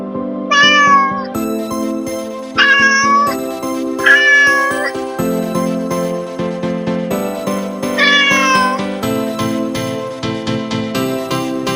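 A cat in the streets of Kuching, Malaysia, lets out several loud, close meows at irregular gaps, with a tinkling, chiming melody playing steadily beneath them.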